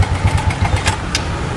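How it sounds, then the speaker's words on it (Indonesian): A motorcycle engine is started up close, giving a brief loud sputtering catch followed by uneven, putting idle pulses over about a second and a half. "Ini motor aku. Kalau nggak percaya, nih, aku hidupin ya."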